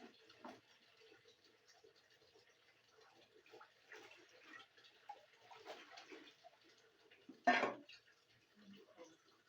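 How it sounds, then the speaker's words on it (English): Thick pap (akamu) liquid is poured into a container in a kitchen, giving a brief loud wet pour near the end among soft clinks and handling noises. "Then I'll take my pap, pour into it like that."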